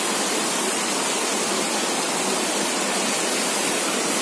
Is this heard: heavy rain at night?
yes